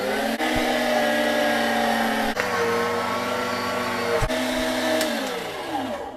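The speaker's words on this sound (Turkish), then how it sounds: "Başta eti çekmekle başlıyoruz işi Eti cihazıma ekledim. Artık çalıştırabilirim." An electric meat grinder minces meat with a loud, steady motor whine and brief jolts where the load changes, then slows as it winds down, with no one talking.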